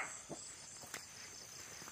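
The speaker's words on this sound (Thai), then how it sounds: "ฟังเสียงกบร้องทั้งวันด้วย" Faint, steady morning chorus of frogs trilling in the distance beside running water in rice fields in Nong Khai, Thailand, with a couple of soft clicks; no voices.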